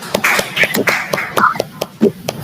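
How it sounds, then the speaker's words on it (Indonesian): A primary school class claps for a student group in a classroom, giving a short burst of sharp, uneven hand claps close by, with voices talking over it. "Kita beri tepuk tangan untuk kelompok 1."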